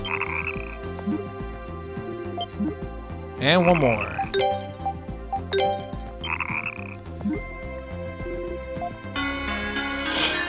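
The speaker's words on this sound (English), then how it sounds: "Froggy. Verdant frog." Verdant frog croaks in the Ys IV video game, repeated ribbiting calls over bright game music and chimes, with a person talking briefly partway through.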